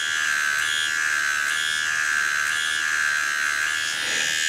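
An Artdriver AV.2 tattoo pen machine runs steadily and close up, giving a continuous high, even electric buzz with a slight pulsing shimmer throughout and no talking.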